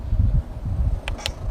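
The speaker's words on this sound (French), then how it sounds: "Chaque bruit que vous entendez, c'est un flash." A parking enforcement car's licence-plate camera fires two short, sharp flash clicks close together, heard clearly over a steady low mechanical hum inside the vehicle.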